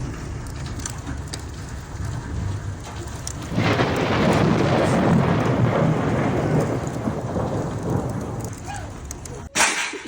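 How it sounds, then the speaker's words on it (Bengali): Hail and rain pour down during a thunderstorm in Italy, a steady hiss that thickens into a loud, dense clatter of ice pellets partway through, with a brief sharp knock near the end. "এই যে বরফের টুকরা শিল পড়তেছে"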